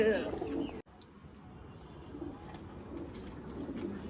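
Rooftop pigeons in a village loft coo in low, soft, repeated phrases, with a brief voice at the start and a quieter stretch of steady cooing after.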